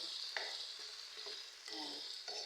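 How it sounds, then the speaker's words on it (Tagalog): A spoon stirs creamy shrimp in a frying pan, a steady soft sizzle with scraping strokes at irregular intervals, close and quiet. "Tapos, haluin natin."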